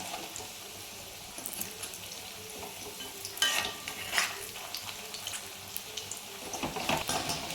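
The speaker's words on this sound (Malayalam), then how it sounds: "ചൂടായ ഓയിലിലേക്ക് ഇട്ട് കൊടുക്കാം ഒരു സൈഡ് ആവുമ്പോഴും മറച്ചിട്ട് കൊടുക്കും" Batter-dipped cauliflower frying in hot oil, a faint steady sizzle broken by a few louder crackling bursts as pieces are turned, no talk.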